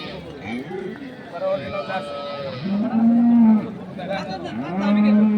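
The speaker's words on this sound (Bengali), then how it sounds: "অরিজিনাল জার্সি গরু" Jersey dairy cows at Ambari cattle market in Dinajpur, Bangladesh, let out several long, close, loud moos in quick succession over a murmur of market voices.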